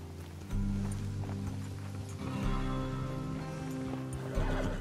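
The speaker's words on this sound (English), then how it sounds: "Just get on the horse." A horse in the Red Dead Redemption 2 video game snorts and shifts with soft hoof sounds over a steady low hum of game ambience and music.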